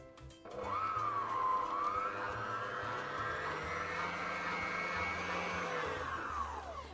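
A blender whips 400 grams of low-fat cream cheese for a cheesecake, giving a steady, loud motor whine that rises and holds for several seconds before winding down near the end, with no voices.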